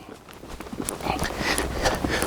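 A horse trots during long-rein groundwork along the arena fence, its hooves landing in a quick steady rhythm, moderately near and mixed with soft ambient noise.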